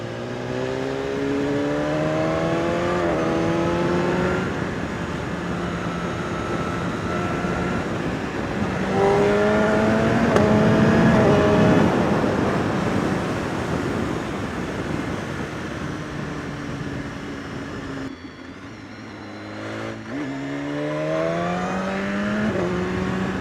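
A 2016 BMW S 1000 RR sportbike engine climbs steadily through the gears under acceleration, its pitch rising and dropping with each shift, loud and close with heavy wind rush, briefly backing off before pulling hard again.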